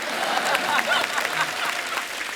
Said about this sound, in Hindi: एक बार जोरदार तालियां हो जाएं अजय देवगन साहब के लिए।